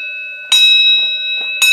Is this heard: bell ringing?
yes